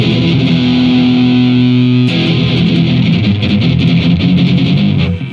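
Electric guitar run through BIAS Amp Designer with heavy drive and distortion, playing sustained, saturated chords that change after a couple of seconds. The tone is loud and thick and plays alone.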